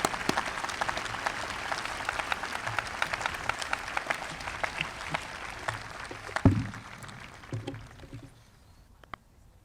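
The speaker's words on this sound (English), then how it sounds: "A round of applause for all of our scholarship recipients." A graduation ceremony audience applauds scholarship recipients, a fairly distant, dense patter of many hands clapping that thins and fades out over the last few seconds, ending with a stray knock.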